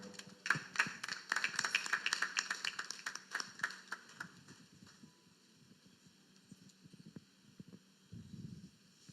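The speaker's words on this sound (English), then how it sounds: "A round of applause for him." A small audience at a startup pitch event claps for the next presenter, a brief patter of hands that quickly thins to a few isolated claps and quiet room noise, faint overall.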